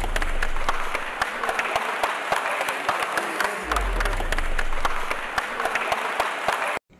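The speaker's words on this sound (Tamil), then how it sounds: "அங்கே இருக்கிற எல்லாரும் பயங்கரமாக ஒரு கைத்தட்டல் ஒன்று கொடுத்து" A film crew on the set of the Tamil film Coolie applauds loudly after a dance at an Onam celebration, dense sustained clapping from a nearby group that runs throughout before cutting off at the end.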